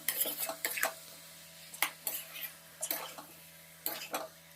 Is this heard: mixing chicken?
yes